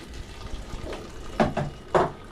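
Water runs from a tap during bulk cooking of a catered meal for about a hundred people, in two or three short splashing bursts close by, with background noise.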